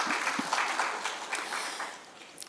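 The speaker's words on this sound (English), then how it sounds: "A big round of applause for Mr." A summit audience claps for an award honoree, a dense spread of many hands applauding at a moderate distance, steady at first and thinning out toward the end.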